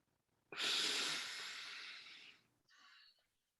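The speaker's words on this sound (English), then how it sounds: "Breathe in. Okay. Out everything. Keep going. Hold your breath." A person takes one long, deep breath, a sustained loud airy rush that fades slowly, followed after a brief pause by a shorter, softer exhale.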